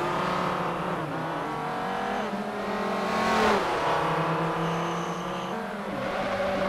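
A touring car in the racing game Forza 4 roars through a corner at the Nürburgring GP circuit, its engine loud and continuous, the note dipping and surging as the brakes lock up midway.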